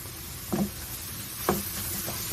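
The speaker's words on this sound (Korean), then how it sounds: "잘 볶아주세요." Octopus stir-fries in a pan with seasoning sauce, a steady close sizzle with two soft scraping stirs of a utensil against the pan.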